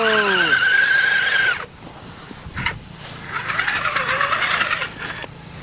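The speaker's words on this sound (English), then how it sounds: "So you can see too much wheel spin, and these trenchers just leave you buried." A Traxxas Summit RC truck has its wheels spinning in snow, giving a high whining electric motor squeal that rises and falls in loud bursts. A short quieter gap follows before the whine resumes.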